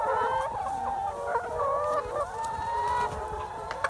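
Laying hens being raised for egg production cluck steadily and densely as a flock, with overlapping calls carrying through the whole stretch at close range and no talking.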